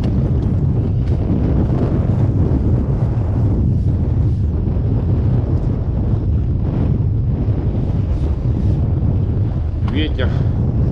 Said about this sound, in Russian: Ветер офигеть.